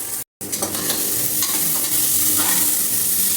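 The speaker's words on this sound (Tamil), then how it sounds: "நல்லா வதக்கிட்டு வெங்காயம் கொஞ்சம் லைட்டாக வதங்கிருக்கு" Onions and slit green chilies sautéing in a pan for kurma, a steady close sizzle with soft scraping stirs; a brief dropout cuts the sound near the start.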